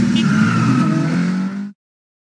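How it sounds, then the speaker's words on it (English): An open-top convertible in a children's educational math game gives a short, loud cartoon engine rev. The rev holds steady, then cuts off sharply. "This open-top convertible wants to race as well"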